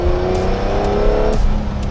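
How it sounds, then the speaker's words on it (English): A 1985 Lamborghini Countach 5000QV with a 5.2-litre V12 accelerates hard, its loud engine note and induction whir rising steadily before a gear change drops the pitch partway through. "The induction whir is magnificent."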